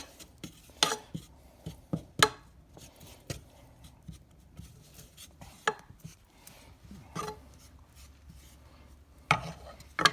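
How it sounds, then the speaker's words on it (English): A utensil stirring flour into pot roast juices in a pot to make a roux, with soft scraping strokes and sharp clicks of metal against the pot, irregular and fairly quiet with no talk. "Put a little flour in there. That's plenty of flour. Okay. We'll mix it up. Make a roux here."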